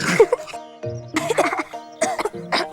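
Several short, harsh coughs come in quick bursts, separated by brief pauses, close and fairly loud.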